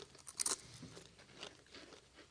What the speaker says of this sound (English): Bite into the mic. Let's hear that crunch.